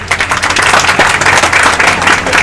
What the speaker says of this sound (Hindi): इसकी ताली बजाइए।